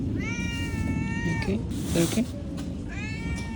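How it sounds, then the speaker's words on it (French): A small cat meows twice in Japan, clear rising-and-falling cries near the start and again at the end, close by, with a brief spoken word and street background in between. "J'ai vu ce petit chat."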